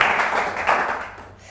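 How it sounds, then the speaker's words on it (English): Audience applause for a guest speaker at a community talk in Didsbury, a dense wash of clapping that swells briefly and then fades toward the end. "Can we have a round of applause for Jane?"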